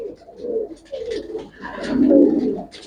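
A pigeon with black tail feathers, kept by a pigeon fancier, gives several deep, throaty coos close by, the last one longest and loudest.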